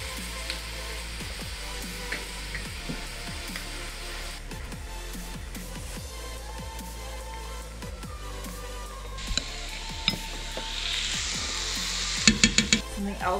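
Vegetables sizzle steadily in a hot pan for a mushroom dish cooked outdoors. Repeated stirring scrapes run through the sound, and near the end come a few louder clinks of utensils against cookware.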